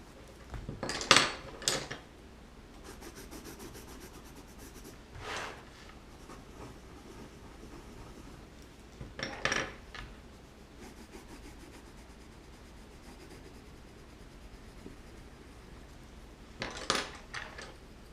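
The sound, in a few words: colouring a mandala with coloured pencils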